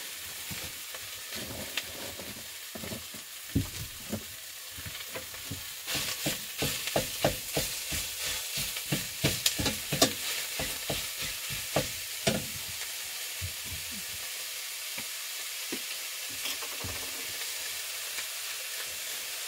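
Ground beef sizzles steadily in a hot pan as it is stirred, with a run of sharp scraping and clicking strokes clustering in the middle over the constant frying hiss.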